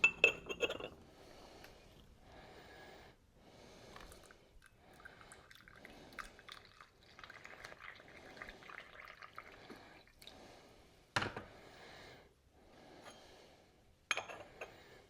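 A tea cake goes into a gaiwan and is rinsed with water in a Yixing purple clay tea set: faint pouring and trickling with soft ceramic clinks and a few sharp lid taps, quiet and close.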